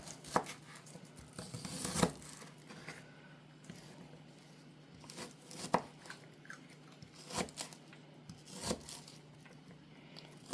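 Knife cutting through a soft sloppy joe sandwich, a series of faint, irregular slicing and crunching strokes close by in a quiet kitchen.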